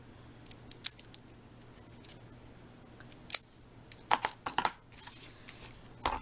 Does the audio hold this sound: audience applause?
no